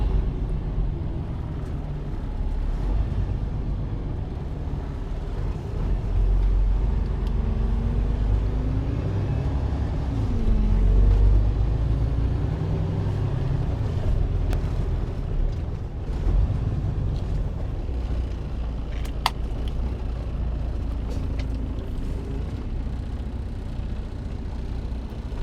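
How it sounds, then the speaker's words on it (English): A truck creeps into a parking spot at the congested APM automated terminal in the Port of Long Beach, its engine a steady low rumble heard from inside the cab for the whole stretch, with no talking. "I'm gonna go ahead and park where that truck was at."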